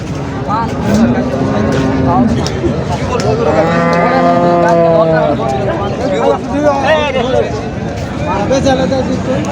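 Several cattle moo loudly nearby, one long drawn-out low in the middle, amid a busy crowd of people talking and general bustle at a cattle market in Chaubaria.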